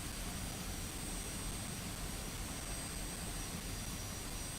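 Steady, unbroken roar of an F-86 Sabre jet engine in flight in a simulator game, a constant broadband rush with a faint high whine, no voices.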